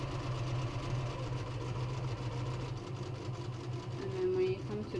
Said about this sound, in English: Make sure you do some stitches and some back stitches, and you sew all the way around.